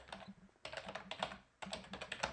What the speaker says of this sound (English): oops, my keyboard